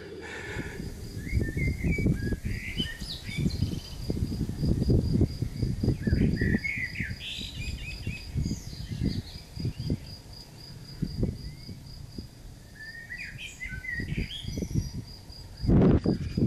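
A cricket chirps steadily outdoors while a blackbird sings bright, varied phrases above it, with low rustling and handling noises close by.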